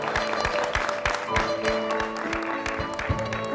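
Applause for an orchestra at a premiere concert, a dense patter of many hands clapping together with sustained instrumental tones running underneath.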